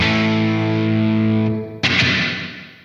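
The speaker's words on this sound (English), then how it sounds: "There's a lot of reverb in this amp" A distorted electric guitar chord rings out through a Blackstar St. James 100 amp and fades, then a second strum follows, trailing a washy reverberant tail from the amp's reverb.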